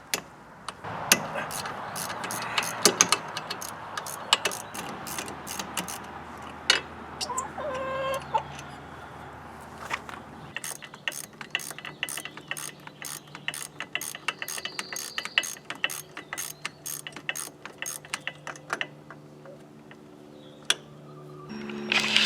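A hand ratchet working the 13 mm or half-inch brake caliper bolts loose on a 2008–2010 Polaris RZR 800, rapid clicking pawl bursts close to the mic with pauses between turns, and a rooster crowing faintly in the background.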